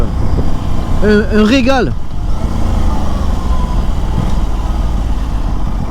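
A 2023 Aprilia RS 660 sport motorcycle pulling away from low speed in fourth gear, its engine note rising briefly and then settling into a steady drone, with someone talking over it.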